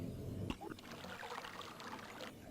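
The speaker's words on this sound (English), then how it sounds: "I think it sounds like a river." Flowing river water in the video game Myst, a steady soft trickling stream that runs on alone and fairly quiet throughout.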